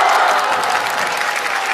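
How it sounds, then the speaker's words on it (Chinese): A studio audience at a Chinese stage comedy show claps in dense, loud, sustained applause throughout. "现在观众掌声要热烈"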